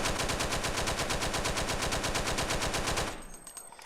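Rapid automatic gunfire in a remastered GTA San Andreas video game, a loud continuous rattle of evenly spaced shots that stops abruptly near the end, followed by quieter clicks.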